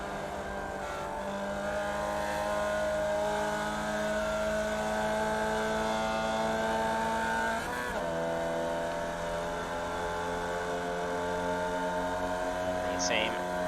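Formula Vee race car in iRacing at Phillip Island, a sustained droning engine tone with steady harmonics that rises as the car nearly tops out, with a brief dip near the middle, under faint commentary.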